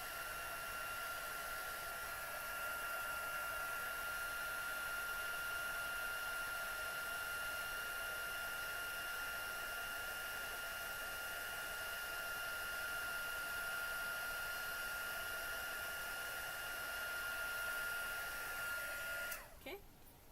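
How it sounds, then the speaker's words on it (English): A heat tool blows steadily over a Stampin' Up artisan craft design, making a loud, continuous whirring hiss with a high whine that runs almost unbroken and then cuts off near the end. "I heat from the back, and then I heat on the front."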